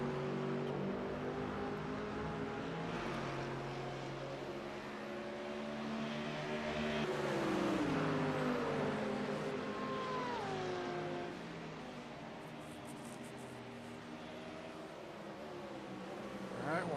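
Race cars in iRacing at Sebring during a 12-hour race, their engines droning and revving as they pass, the pitch sweeping as faster traffic goes by, with a steady engine hum underneath.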